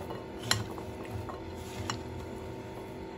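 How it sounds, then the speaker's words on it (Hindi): A spoon stirs and mixes chaat ingredients in a bowl, giving soft scraping and occasional sharp clinks of metal on the dish, fairly quiet and close, with no voices. "अब मैं इन सबको खूब अच्छे से मिक्स करूंगी।"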